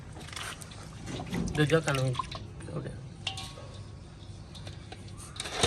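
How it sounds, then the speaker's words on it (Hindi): Water trickles and drips close by as a goat's ears are rinsed, with people talking over the splashing and a brief bleat from the goat. "ये जनाब अब हकीम साहब कानों को वॉश कर रहे हैं।"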